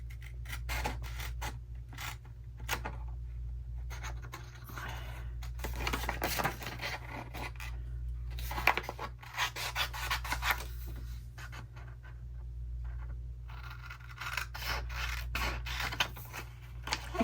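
Scissors snip through paper while card tags are cut out, in a long run of quick, close crisp cuts with brief pauses and faint rustling over a low steady hum.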